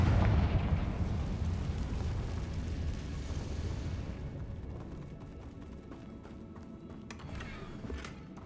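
Confringo spell explosion in the video game Hogwarts Legacy, loud and rumbling at the outset, then a long fading roar with scattered crackles and light debris clicks near the end.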